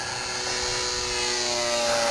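A HobbyZone Super Cub RC plane fitted with ailerons flies with a steady, high electric motor whine, a continuous buzzing drone that grows slightly louder, with no talk over it.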